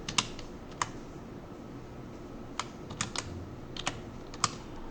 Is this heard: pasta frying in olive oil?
no